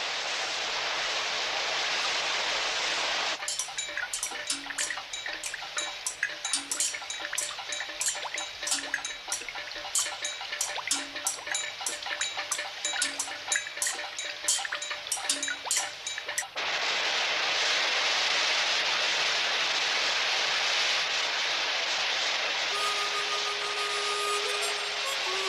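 Steady, hissing rainfall continues throughout, with a stretch of rapid rhythmic tapping layered over it in the middle.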